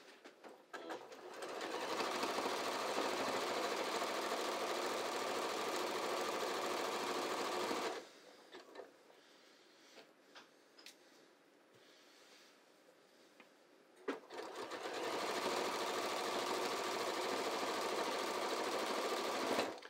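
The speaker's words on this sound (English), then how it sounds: "let me just stitch the triple zigzag right on top of the serge seam" Sewing machine running fast, stitching a triple zigzag over a serged seam on pull-on pants: two long, steady, loud bursts of rapid mechanical chatter separated by a quieter pause with faint handling clicks.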